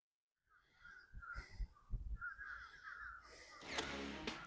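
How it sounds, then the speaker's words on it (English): Several crows caw repeatedly at a moderate distance, harsh calls in an irregular rhythm over faint background noise. "Got these birds in the background."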